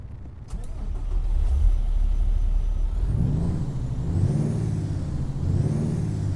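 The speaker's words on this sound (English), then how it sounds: "I like the sound of that engine." A Kenworth C500 truck in American Truck Simulator cranks and its diesel engine starts up, settling into a deep, rumbling idle with rising and falling revs, close and steady throughout.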